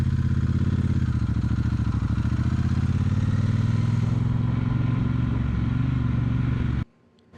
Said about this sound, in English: I'm going to keep my motorcycle in first gear